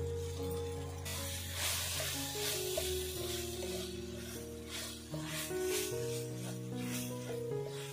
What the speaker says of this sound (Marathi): खोबरं परतून घेऊया